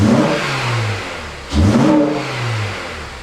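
An Acura TSX engine revs twice in close succession, the intake roar rising and falling with each blip before settling back toward idle, loud and close with no talking.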